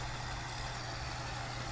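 A tractor engine idles in the farming game Farm Expert 2017, a steady low rumble with a constant hum, fairly loud and unbroken for the whole short stretch.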